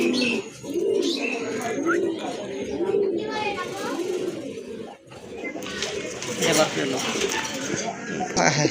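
White Lakka pigeons and other fancy pigeons at a sale coo repeatedly in low rhythmic calls close by, under continuous talking with some clatter.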